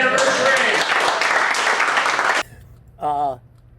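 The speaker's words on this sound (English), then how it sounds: "Some applause for their anniversary." An audience applauds a couple's anniversary at a comedy and magic show, a dense wash of clapping that cuts off abruptly, followed by silence and a brief voiced sound.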